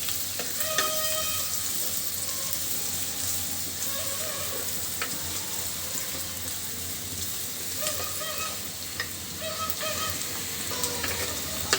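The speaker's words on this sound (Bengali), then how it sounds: "পেঁয়াজটা ভাজা ভাজা করে তারপরে মশলাগুলো দিব" Onions fry in hot oil with bay leaf in a pot, a constant crackling sizzle with bursts of popping and light stirring, close and steady without talk.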